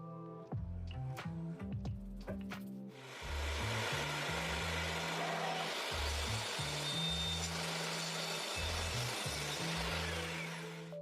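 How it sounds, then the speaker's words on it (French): A glued wooden butcher block being sawn, with an early stretch of knocks and tonal hums, then a steady loud rasping cut that runs on and off for several seconds, close and dominant. "Donc, je vais scier un peu plus."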